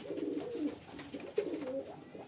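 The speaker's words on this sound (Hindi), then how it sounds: "ये सारे कबूतर सिर्फ शौक के लिए हैं" Fancy male pigeons kept as a hobby in Chhabra, Rajasthan coo in deep, rolling phrases, several close-up calls repeating in a steady rhythm without talk.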